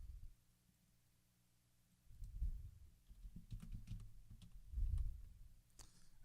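Soft, sparse clicks of fingers typing on a computer keyboard during wiki editing, faint and close, over low background rumbles and thumps.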